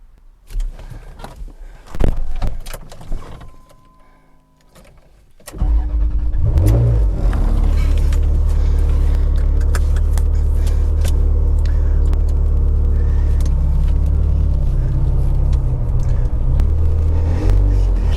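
A Ferrari pulls away with a rising engine note and accelerates hard, its loud, steady roar building after a few seconds of quieter handling noises.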